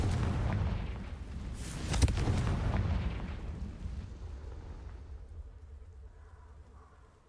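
Fiery spell explosions in Hogwarts Legacy, a loud low booming blast with rumbling debris that swells around the middle and then slowly fades into a quieter hiss.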